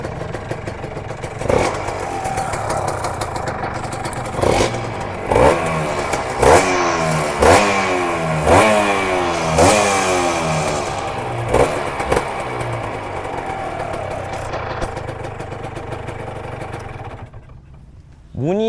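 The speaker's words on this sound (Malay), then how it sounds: "Jom kita dengar bunyi exhaust dia macam mana." A 1990s Yamaha TZM150 liquid-cooled two-stroke motorcycle is revved repeatedly through its exhaust, rising and falling in a series of sharp throttle blips with a buzzing, ringing tone, close and loud, before dropping to idle near the end.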